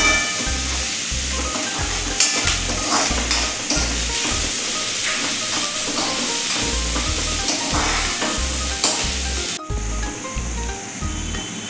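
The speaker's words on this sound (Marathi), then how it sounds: "व हे छानपैकी मिक्स करून 1-2 मिनिटं परतून घ्यायचं चांगलं" Onion and garlic sizzle loudly in a pan for dal kanda, a constant close frying hiss broken by rhythmic scraping stirs, with no talking.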